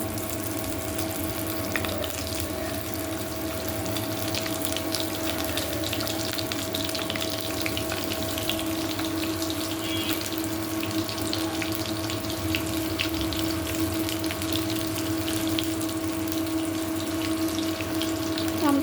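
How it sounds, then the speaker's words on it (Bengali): Something frying in very hot oil at home, a steady hiss with a low constant hum behind it, even and unbroken for the whole stretch. "ওকে কিছু ভেজে দেই। তেলটা অনেক গরম হয়ে গেছে।"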